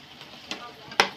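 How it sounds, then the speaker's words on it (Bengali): Mutton being braised in a pan, with a soft continuous sizzle broken by a few brief scraping stirs, the last one louder and close. "কষা চলছে"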